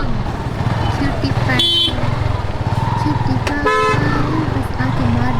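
A traffic jam on a road in Rajasthan, India, with a constant engine drone and two short bursts of car horn honking, near and loud, as people talk over the steady hum.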